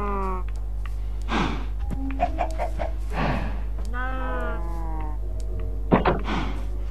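A chicken in the video game Minecraft gives a few short, close clucks at irregular intervals over a steady low background hum.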